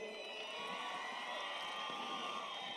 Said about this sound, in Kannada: ಇವರಿಬ್ಬರಿಗೂ ಸಿಕ್ಕಾಪಟ್ಟೆ ಜೋರಾಗಿ ಬರಲಿ ಚಪ್ಪಾಳೆ